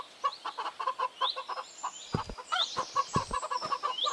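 Chickens clucking in a chicken coop in a video game, a quick rhythmic run of close, fairly loud clucks with a few squawks and thumps, and no talking.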